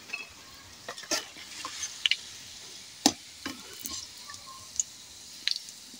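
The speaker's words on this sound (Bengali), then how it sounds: "এগুলোকে নাড়িয়ে চাড়িয়ে তেল থেকে তুলে নিচ্ছি" Round pitha frying golden in oil are stirred and lifted out: a faint crackle of oil sits under scattered clicks and taps of a utensil against the pan, with no voices.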